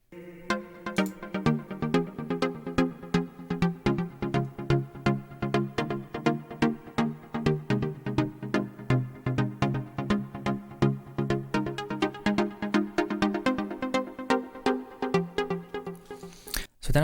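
A freshly composed melody for a song remix plays on its own, a busy run of quick, evenly spaced synth or plucked notes over a steady sustained bass, with no voices.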